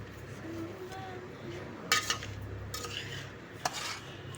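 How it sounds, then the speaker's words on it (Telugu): Mango pickle being stirred with salt, chilli powder and mustard powder, soft scraping and mixing in a bowl with a few sharp clinks of a spoon against the vessel, fairly quiet and close. "అలాగే ఉప్పు, అలాగే పచ్చడికి సరిపడా కారం వేసి కలుపుకుందాం."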